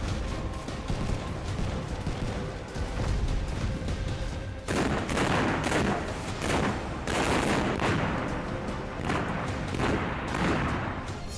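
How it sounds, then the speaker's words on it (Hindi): Repeated loud blasts and booming detonations rumble one after another in mountains, with rolling bursts that swell and fade across the whole stretch. "पहाड़ों पर आग ही आग, धरती दहलाने वाले ब्लास्ट, हर धमाके से उठता धुएं का गुबार।"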